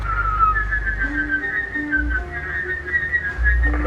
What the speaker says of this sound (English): Looks like we got a 0 beat.